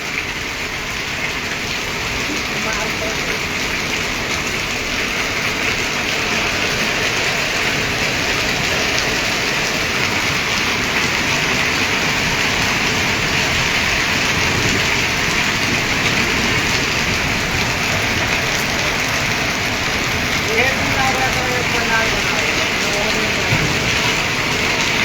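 Heavy rain pours down during a storm in Patepur, a steady, loud, unbroken hiss of rain on surfaces that continues throughout, with faint low rumbling underneath.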